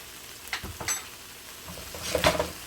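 Garlic and bell pepper sizzle in a hot pan alongside carrots, with a couple of soft stir clatters early on and a brighter burst of frying near the end, no voices.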